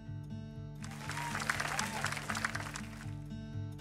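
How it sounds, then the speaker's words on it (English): Applause from an in-game crowd at a bridge-opening ceremony in My Time at Sandrock, a broad wash of clapping lasting a few seconds over a steady, looping music background. "let's give a special round of applause for our core construction team"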